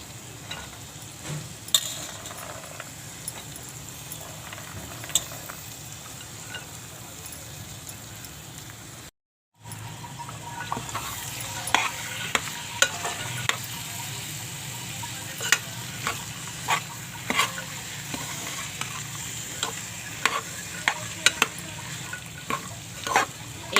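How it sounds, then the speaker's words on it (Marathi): Mixed colourful vegetables tossed into spiced oil in a pan, a steady sizzle and fry with repeated sharp scrapes and clacks of a stirring spoon, close and continuous apart from one brief cut. "आता मी ह्या भाज्या घालून घेते."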